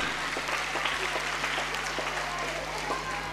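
A crowd claps steadily and continuously in a room at a school annual gathering, a dense wash of applause with no voices rising above it.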